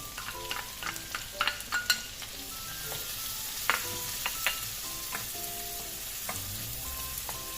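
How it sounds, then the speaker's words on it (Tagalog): A medium onion cooks in olive or canola oil with a soft continuous sizzle, broken by repeated close clinks and scrapes of a utensil stirring against the pan; no one speaks. "Igisa natin itong sibuyas hanggang sa magiging brown siya."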